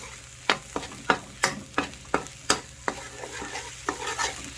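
Panang beef curry paste stir-fried in a pan, a series of sharp spatula scrapes and knocks at a steady rhythm over a low sizzle, close and moderately loud, no talking.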